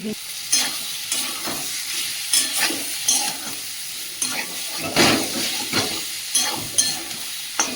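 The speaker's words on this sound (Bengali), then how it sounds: "এবার দিয়ে দেবো কাঁচা লঙ্কা আর আলু একসঙ্গে দিয়ে দেবো।" Tomato, green chili and boiled potato frying together in a pan for a village-style Bengali dish, with a steady sizzle broken by repeated scraping stirs of the spatula.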